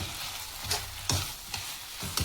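Soft sizzling of sessile joyweed greens frying in a pan, with a few scraping stirs of a spoon at irregular intervals.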